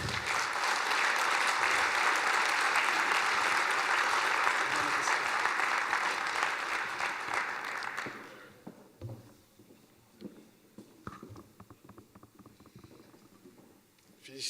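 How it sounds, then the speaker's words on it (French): Dense audience applause at a trophy award ceremony, loud and steady for about eight seconds, then fading to scattered claps and faint murmuring. "Voilà, on peut l'applaudir."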